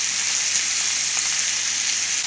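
Cut mango pieces fry in hot oil in a pan for chutney, a steady close hissing sizzle without pause.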